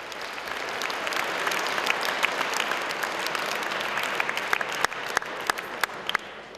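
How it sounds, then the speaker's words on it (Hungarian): An audience at a math competition awards ceremony claps steadily for the winners, a dense, even patter of many hands with a few sharper claps standing out, moderately distant and not especially loud. "egy nagy tapsot megérdemelnek ezek a legeslegjobb gyermekek"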